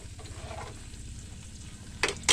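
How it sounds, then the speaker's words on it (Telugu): Food frying in a pan gives off a steady, low sizzle and crackle at close range, ending with two brief, sharper bursts of spatter or stirring. "ఈరోజు వేయించాను అనమాట"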